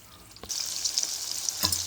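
Eggs cracked into onion masala fry in a pan for Andhra-style onion egg curry, a steady close sizzle with a brief pop or crack early and another near the end.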